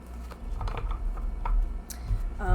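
Glossy, unlaminated tarot cards being shuffled by hand, giving soft riffling clicks and slaps in an uneven rhythm, close and moderately loud, with no talk.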